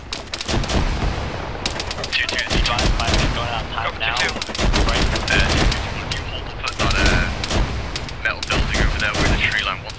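Dense bursts of rapid gunfire and heavy explosive thumps from a grenade launcher fill a military combat video game, loud and close, in clustered volleys separated by brief lulls.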